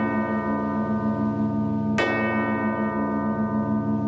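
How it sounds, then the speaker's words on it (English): A single bell strike rings out in One Piece anime, cutting sharply over a steady droning tone and leaving a long, sustained resonant decay. "You're gonna ring a bell."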